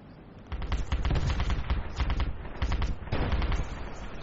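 An area-attack barrage in a video game unleashes rapid bursts of loud gunfire and explosions, dense rattling volleys that rise sharply after a brief lull and keep pounding in clustered waves.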